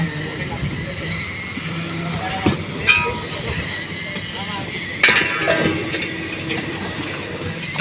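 Two concrete pumps work a fourth-floor slab pour at a Makati City building site, giving a steady, loud mechanical rumble with sharp clanks and bursts around 2.5 and 5 seconds while people talk over it.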